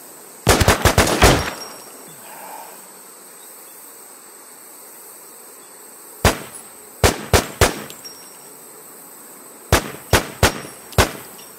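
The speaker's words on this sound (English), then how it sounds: "Is that you shooting?" A G36 rifle fires in the WarZ video game in short, loud, sharp bursts of three or four rapid cracks, separated by stretches of near silence.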